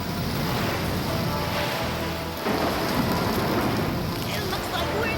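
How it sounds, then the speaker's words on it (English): Heavy rain pours down in a constant roar, with low thunder rumbling through the downpour. "We'd better call the Coast Guard for a tow before this storm hits us."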